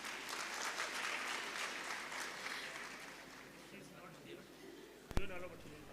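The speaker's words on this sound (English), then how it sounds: "With your huge round of applause, Ms. Iram." Steady applause from an audience fills most of the clip, fading slightly before a brief sharp clatter near the end.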